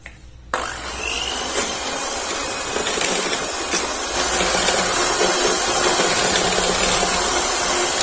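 An electric beater whirs steadily, close and loud, as it whips eggs with powdered sugar for a Vancho cake, the motor hum running unbroken with faint scraping against the bowl.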